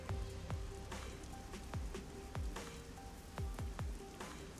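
Rain falls across a busy neon-lit city district in the video game Rain Code, a steady patter with scattered distinct droplet splashes landing irregularly, fairly close and without voices.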